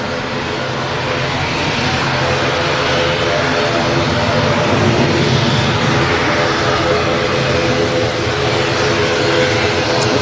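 A Loganair ATR turboprop airliner passes at Manchester Airport, with a loud, sustained propeller and engine drone that swells gradually as it goes by.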